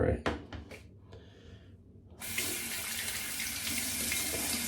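A bathroom tap runs steadily while shaving with an adjustable safety razor, a continuous hiss of water into the sink that starts abruptly after soft bristle and handling noises and stays fairly loud to the end.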